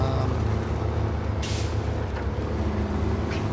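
A truck in the off-road driving game SnowRunner, its engine droning low and steady, with one brief, sharp air-brake hiss partway through.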